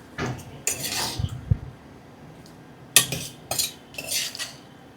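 Spoon mixing hot tempering into poha in a metal vessel, a series of bright scraping and clinking strokes in irregular bursts, close up, with quiet gaps between.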